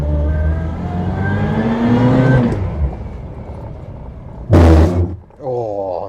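A Reliant Fox engine drones and revs as the small car pulls away and accelerates, the pitch climbing through the gears, followed by a loud burst of noise and then a further rising engine note.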